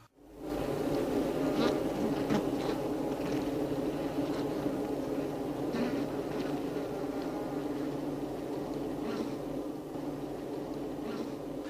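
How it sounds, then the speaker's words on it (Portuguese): Honey bees crowding at the hive entrance, returning loaded with nectar: a dense, continuous buzzing hum close by, steady throughout with faint clicks within. "Impacientemente as abelhas esforçam-se para entrar na colmeia, para se libertarem da carga que trazem, o néctar."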